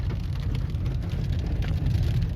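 Hail falls steadily during a storm near Omaha, Nebraska, with a dense, continuous rain-like patter and faint rumbling underneath, fairly soft and distant with no voices.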